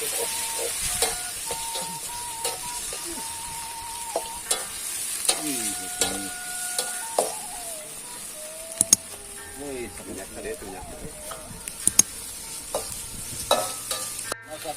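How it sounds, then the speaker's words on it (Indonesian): Spice paste being stirred and fried in a pan, cooked outdoors, with soft sizzling and intermittent scraping strokes throughout, while people talk loosely in the background. "Kita masak bumbunya dulu terlebih dahulu."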